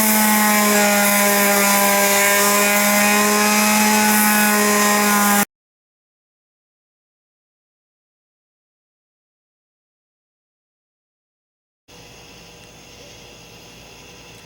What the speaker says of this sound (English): I'm cleaning off all the rust in this groove with the wire wheel.